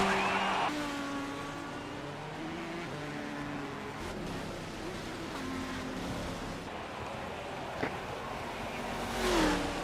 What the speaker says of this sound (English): You can hear these beautiful, beautiful prototype cars.